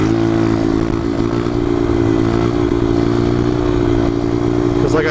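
Motorcycle engine at a cruise night, a loud steady drone holding near constant pitch throughout, close and dominant with no clear rise or fall in revs.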